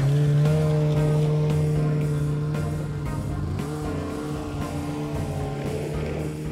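A pair of fairly new, brightly colored snowmobiles coming up a road, their engines a steady, loud droning hum with a slight shift in pitch as they approach, heard alone without voices.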